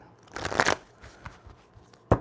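Tarot cards being shuffled: a quick riffling burst of card flicks, then a few lighter taps and a sharp card snap at the end, close and crisp, without talk.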